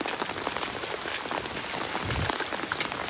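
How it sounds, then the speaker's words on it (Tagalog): Heavy rain pouring down, a dense steady patter of drops striking surfaces up close, with no speech over it. "Umulan ng malakas."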